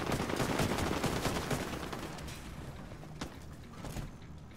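Dense, rapid gunfire from the co-op shooter The Division 2 starts loud and continuous, then thins into scattered bursts and single shots as it fades over a few seconds.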